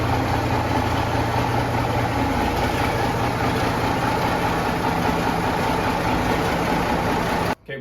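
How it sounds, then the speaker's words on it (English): A Case 1175 tractor engine idles steadily inside a garage, a loud, even diesel rumble that runs unbroken and then cuts out abruptly near the end. "Okay, we got the tractor in the garage."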